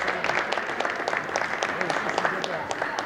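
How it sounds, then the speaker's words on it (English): A high school gym crowd claps for senior basketball players at Lawrence High before a girls varsity game, steady applause of moderate loudness, with scattered voices mixed in. "One more nice round of applause for our senior basketball players here at Lawrence High"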